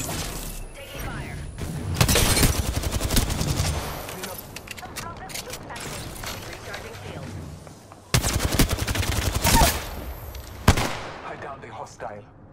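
Gunfire from the Apex Legends battle royale game crackles in rapid automatic bursts, loud and close, with a pause between two heavy volleys, mixed with other game effects.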